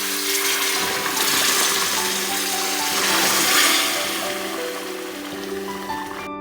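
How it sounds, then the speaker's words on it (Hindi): Hot water from a kettle is poured over browned chicken and turnip in a pot, making a continuous splashing stream for several seconds with no voices. "अब मैंने केटल में पानी गर्म कर लिया है, इसमें मैं ऊपर से गर्म पानी डालूंगी।"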